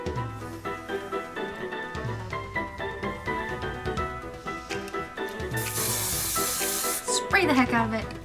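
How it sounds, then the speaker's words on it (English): Hairspray sprayed onto hair styled in 1920s flapper waves, a steady loud hiss lasting about a second and a half over background music. "Spray the heck out of it."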